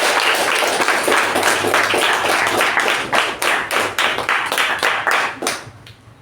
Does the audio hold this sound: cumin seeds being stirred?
no